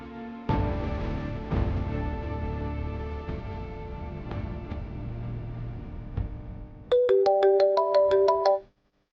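A telephone ringtone plays as a loud, regular series of bright electronic tones near the end, with a soft musical drama score running underneath beforehand.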